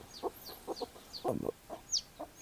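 A hen clucks softly in a coop while her chicks peep with high, thin chirps, the calls coming in quick repeated bursts close by with no talk.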